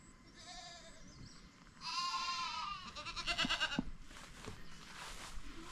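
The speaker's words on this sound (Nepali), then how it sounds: "चराउने बेला भएर होला कराउँदैछ बाख्राहरू" Tethered goats in a Nepali village during the rainy season bleat several times in a row, fairly near and alone, with quavering calls overlapping toward the middle.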